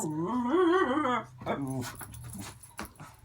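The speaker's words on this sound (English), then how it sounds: "That's just my dogs." Household dogs give a long, wavering whine followed by shorter whimpers and a soft growl, heard close up, with a person's voice nearby.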